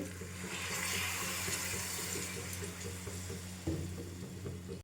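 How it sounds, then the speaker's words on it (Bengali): Hot water is poured in a steady stream into a pot of red, spicy mutton curry being cooked down with green chillies. The pour is continuous and fairly faint over low cooking noise. "এবার একটু জল দেবো গরম জলটা দেব অল্প করে জল দেব"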